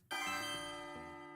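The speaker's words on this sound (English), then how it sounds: "Supposedly a bell." A bell in the Switch 2 Welcome Tour video game, a single clear bell strike that rings out with a long, bright sustained tone and slowly fades.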